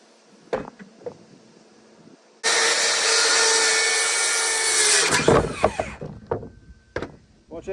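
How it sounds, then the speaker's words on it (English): A power saw with a worn blade cuts through wood, starting abruptly after a few knocks and running as a loud, steady, close whine for about three seconds before winding down amid clattering handling noises. "Watch that kickback. Whew. Love this saw, but you can see I need a new blade."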